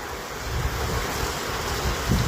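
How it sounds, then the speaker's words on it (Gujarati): Heavy wind roars with heavy rain, a dense, steady wash of noise with rough gusts buffeting the microphone and a louder surge near the end. "ખૂબ ભારે પવન અને ખૂબ ભારે વરસાદ હાલ વરસી રહ્યો છે"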